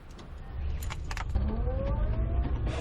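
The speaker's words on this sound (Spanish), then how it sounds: "estamos subidos en un coche eléctrico, eso sí, de autofabricación" A homemade electric car driving, heard from inside as a low road rumble with a faint rising motor whine and a few light clicks and rattles, and no engine roar.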